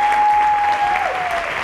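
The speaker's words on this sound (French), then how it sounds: "On peut les applaudir encore une fois." An audience at the Georges Moustaki Prize evening applauds two musicians, a loud, steady burst of clapping from many hands, with a sustained tone running under it.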